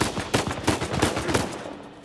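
Rapid gunfire in Uncharted 4, a quick burst of sharp, closely spaced shots crackling for about a second and a half before trailing off.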